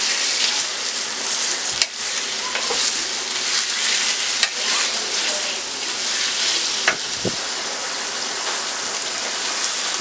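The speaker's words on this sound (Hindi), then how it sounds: "तकरीबन 3 मिनट के लिए मैंने चिकन को फ्राई किया" Chicken pieces for chicken tikka masala fry in a pan with a continuous loud, dense sizzle and a few sharp clicks of a utensil against the pan.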